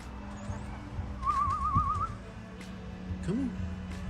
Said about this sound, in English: I use 2 styles of whistling, one for feeding and one for calling them out for flight.